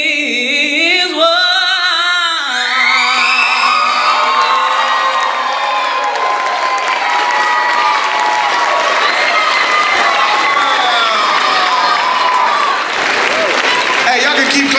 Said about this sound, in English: Hey, y'all can keep clapping if you want.